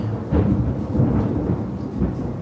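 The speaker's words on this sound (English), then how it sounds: "We got some loud ass thunder." Loud, close thunder rolls through a storm in long rumbling swells, with deep low rumbles rising and falling across the whole stretch and no talk.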